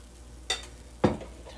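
Pancake batter being stirred in a bowl: two brief scraping strokes, the second louder and fuller, against a quiet background hum.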